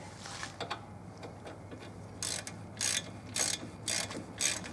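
A ratchet tool clicks in short bursts while tightening the bolts on a Chevy Blazer brake rotor, with several loud clusters of rapid clicks near at hand over a low mechanical hum.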